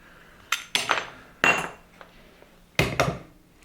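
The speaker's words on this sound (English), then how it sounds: "if you cut it with proper pipe cutters like these" Pipe cutters work on an old offcut of scrap plumbing pipe, making a few sharp metallic clicks and crunches in short separated bursts against a quiet background, with no talking.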